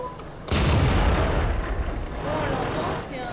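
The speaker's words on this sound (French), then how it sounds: "c'est un canon qui a un son de tir d'artillerie, ça s'entend" Tank cannon firing in a war video game, one heavy artillery-like boom that bursts in loud and close, then rumbles and rolls on for several seconds.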